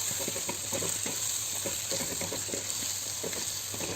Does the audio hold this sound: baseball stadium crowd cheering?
no